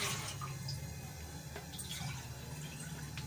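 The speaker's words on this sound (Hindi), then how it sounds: "2 गिलास पानी डालूँगी" Water poured from a glass into a cooking pot while making a chicken and potato kebab dish, a continuous faint splashing and trickling against a steady low hum, without talk.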